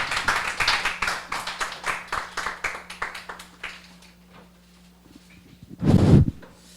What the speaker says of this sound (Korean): 저 장로님 나오실 때 큰 박수 부탁드리겠습니다.